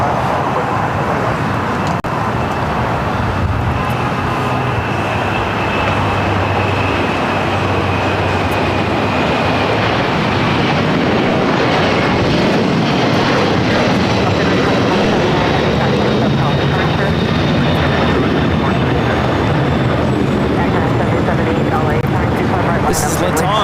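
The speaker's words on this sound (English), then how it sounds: "This is Latam 2479 taking off to Lima, Peru on the 767-300ER." A LATAM Boeing 767-300ER departs LAX for Lima, its engines building into a sustained, powerful takeoff roar with a thin whine over it, loud and continuous throughout.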